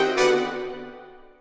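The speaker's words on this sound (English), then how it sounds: "if we took these two notes on the horn and transposed them down an octave." Two orchestral horn notes transposed down an octave ring out as one loud attack that slowly decays over about a second, with nothing else heard.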